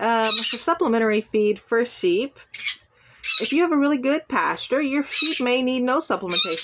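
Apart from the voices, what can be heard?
pet parrot squawking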